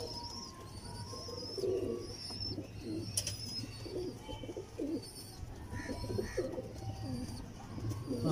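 Pigeons coo repeatedly in low, throaty bursts, close by, with faint chirps and background noise and no speech.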